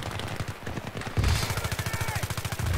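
Rapid automatic gunfire in the shooter game Battlefield 3: a fast, even rattle of shots, close and loud, running almost without pause through the short stretch, with no talking.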